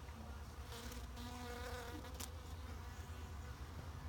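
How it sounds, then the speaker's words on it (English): Dense, steady buzzing of many honey bees in a hive, close and continuous, with a few brief louder swells as individual bees pass near. "Nursing bees."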